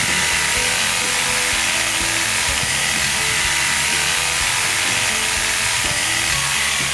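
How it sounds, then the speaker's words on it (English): Reciprocating saw cutting through tree roots in an excavation for a natural stone retaining wall foundation, a steady loud buzzing rasp that continues alone for the whole stretch. "as you expose the tree roots, cut them off with a reciprocating saw"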